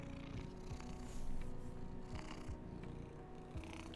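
A pet cat purrs steadily up close, a soft continuous rumbling rhythm that sits quietly alone with no voices.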